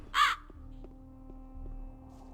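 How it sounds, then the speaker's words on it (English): A crow in the Gothic 2 video game gives a single loud, harsh caw near the start, then a quiet in-game ambience with a low hum and soft rhythmic ticks follows. "Loud ass crows."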